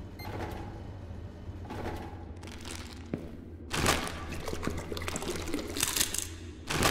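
In a creature-cooking video game, an ingredient paste pours into a blender with wet, splashy sloshing and clicky interface sounds, growing louder midway through.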